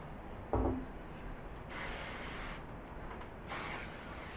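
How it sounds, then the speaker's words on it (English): Hairspray hissing from an aerosol can onto styled hair in two short, soft bursts at close range, following a brief handling thump. "Just a little hairspray."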